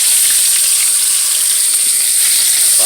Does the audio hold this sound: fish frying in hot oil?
yes